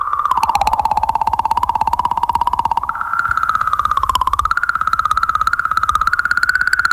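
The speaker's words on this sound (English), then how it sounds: "this is the sound of a comet in space" A space probe's recording of a comet in space, a continuous warbling, whistling tone that slowly bends in pitch over a rapid, steady pulsing throb, loud and unbroken throughout.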